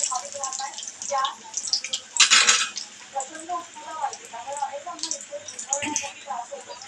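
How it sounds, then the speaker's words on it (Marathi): Vadas turned over in hot oil in a pan for a Maharashtrian vada bhaji, with soft sizzling, light clinks of a utensil against the pan and one brief louder scrape, all close up. "वरती तेल जरा टाकून आपण परती करून घेणार आहे"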